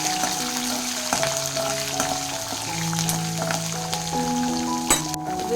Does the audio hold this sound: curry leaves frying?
yes